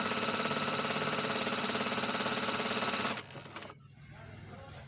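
A PFAFF embroidery machine runs with a fast, even mechanical chatter for about three seconds, then slows and stops, leaving a quieter room hum with a faint tone.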